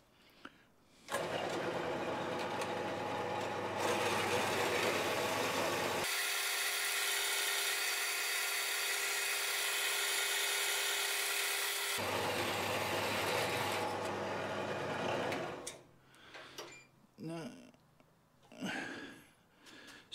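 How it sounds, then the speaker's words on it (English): A bandsaw fitted with an accessory for cutting very short pieces during an emergency plumbing repair: a loud, steady motor hum that rises to a harsher, brighter cutting roar midway, then winds down into clunks and handling noises. "So this is where my accessory for the bandsaw comes into play, so I can cut really short pieces."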